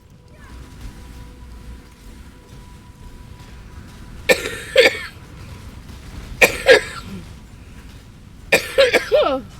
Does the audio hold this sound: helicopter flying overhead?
no